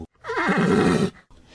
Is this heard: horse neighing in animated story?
yes